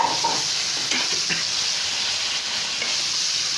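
Okra frying in a pan with ginger, garlic, onion and salt, a steady close sizzle broken by a few short scrapes of stirring.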